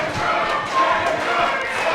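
A wrestling arena crowd at an East Coast Pro Wrestling show rallies behind the wrestler Gangrel with a steady wash of cheering and shouting, along with occasional thuds from the ring.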